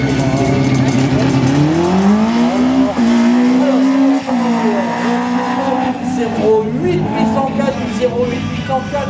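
A Citroën Saxo race car driven hard at a slalom in Agon-Coutainville, its engine revving high and climbing through the gears with brief lifts, loud and close, while a commentator talks over it.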